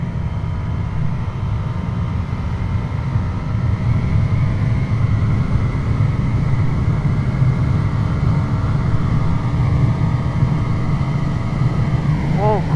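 Ducati Monster 797 motorcycle engine on a highway run after a downshift, a loud continuous drone mixed with heavy wind rush, holding steady with a rising whine near the end.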